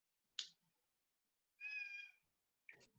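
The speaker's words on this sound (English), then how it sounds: "This cat Bartek, is great" A house cat gives a single clear, drawn-out meow near the microphone, bracketed by a couple of soft short sounds in an otherwise quiet room.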